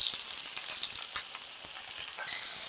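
Sizzling vegetables in a pan as chopped tomato and ginger paste go in, a bright crackling fry with a few clicks and scrapes, close and unbroken by speech.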